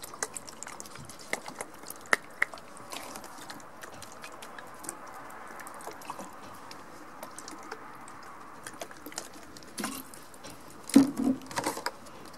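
Water is poured onto seedlings in seed trays, a soft uneven patter and drip of small splashes and squishy trickles, close and fairly quiet, with a brief louder burst near the end.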